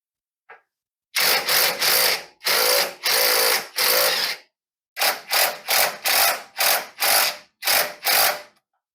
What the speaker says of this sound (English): we're gonna have to loosen that bolt back up a little bit